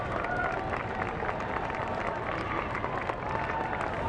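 A football stadium crowd at an Illinois State versus Appalachian State NCAA playoff game murmurs in a steady broadband wash after a blocked extra point in overtime, with scattered claps and a distant voice beneath it.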